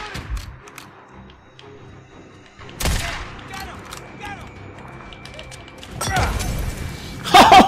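Shotgun blasts aimed at a zombie bear in Days Gone, a few loud, sharp booms spaced several seconds apart amid clattering game action, with someone talking between shots.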